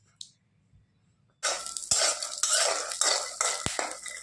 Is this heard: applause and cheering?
no